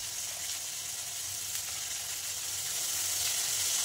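Green chili paste and coriander-cumin paste sizzling in a pan for a thin curry, a continuous dense hiss of frying that holds steady and swells slightly, near and with no voices.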